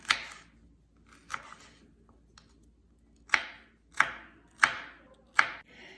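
A knife chops vegetables on a board into small pieces: two early strokes, a pause, then four firm, evenly spaced chops, close and crisp against a quiet room.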